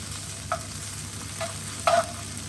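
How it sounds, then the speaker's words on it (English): Pasta frying and being stirred in olive oil with black pepper in a pan, a steady soft sizzle with a few brief scraping stirs, close and alone. "Just let the olive oil coat the pasta."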